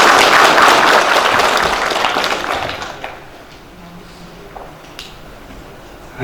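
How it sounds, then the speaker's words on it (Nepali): Audience applause at a revenue department seminar, loud massed clapping from a crowd that fades out after about three seconds, leaving quiet room noise with a few stray claps. "कर्तव्य ध्वनिका साथ ताली बजाइदिनु"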